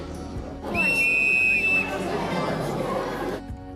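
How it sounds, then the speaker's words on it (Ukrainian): A shrill handmade clay whistle blows for about a second, followed by a noisy background of children's chatter and movement. "Оце ось діти вже свистять, ми тільки що зліпили"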